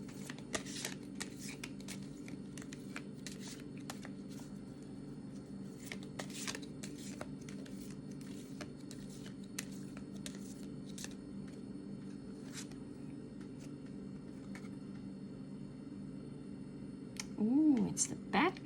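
Oracle cards are shuffled over and over in soft, quick riffling flicks spread across the whole stretch, quiet and close, under a steady low background hum.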